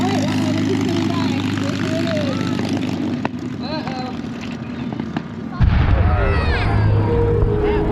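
An FG-1 Corsair warbird flies at an air show, a loud propeller engine drone with rumbling low tones that shifts and deepens partway through, as if passing close overhead.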